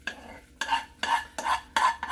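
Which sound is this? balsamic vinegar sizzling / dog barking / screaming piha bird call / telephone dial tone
balsamic vinegar sizzling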